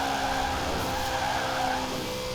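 A Koenigsegg Agera RS in a racing video game braking hard from high speed, tires squealing loudly and continuously over a steady engine whine.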